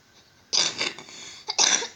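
Two loud, close coughs separated by a short pause, after a moment of near silence.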